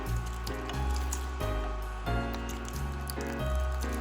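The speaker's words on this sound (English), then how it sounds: "as I'm draining the pasta, I'm just gonna save in" Cooked pasta drains as water pours out in a steady, close splashing gush, a continuous watery rush with shifting tone and no talking over it.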